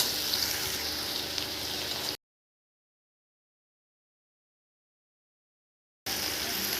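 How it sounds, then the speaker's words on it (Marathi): Finely chopped tomato sautéing in a hot pan for a Bombay duck curry gives a soft, steady sizzle that cuts out completely for several seconds, then returns just as evenly. "बारीक चिरलेला टोमॅटो यामध्ये टाकायचा आहे चांगलं लाल होईल तोपर्यंत परतवून"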